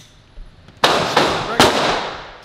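Two sharp gunshots from a stock Glock 17 pistol at a shooting range, loud and close, about three-quarters of a second apart, each followed by a ringing decay.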